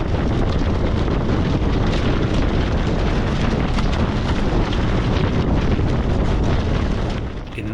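Strong storm squall wind buffets a sailboat at sea, a loud, continuous roaring rush with heavy wind noise on the microphone, unbroken for the whole stretch and no voices.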